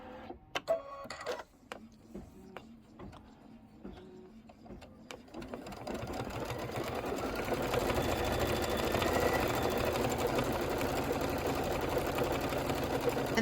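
An embroidery machine stitches the borders of a quilted pillow, a steady mechanical whir that builds after a few scattered clicks and taps into a continuous, fairly close drone.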